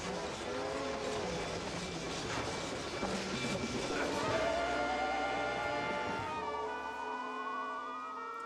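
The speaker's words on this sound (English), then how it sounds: "Train would have gone by." A train rumbles steadily past in the video game MOUSE: P.I. for Hire, with dense clattering and a rising whistle-like tone toward the end before the roar drops away; no speech.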